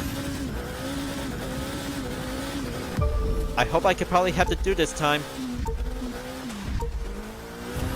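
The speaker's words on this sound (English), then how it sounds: "let's turn the engine on and let's rev them up" In The Crew 2, a car engine revs in several quick bursts midway, rising and falling sharply over a steady drone of game audio, while someone talks throughout.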